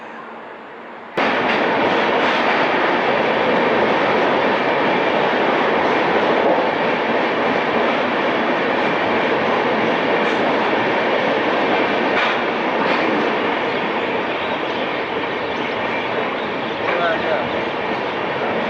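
The Odisha Sampark Kranti Express heard from inside a coach, with a loud steady rumble and rattle of the wheels on the rails that starts abruptly and carries on without a break, while voices murmur faintly in the carriage.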